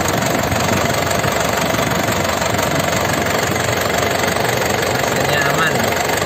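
A 2003 Black Panther car engine idling, a steady loud rumble with constant mechanical chatter and no speech.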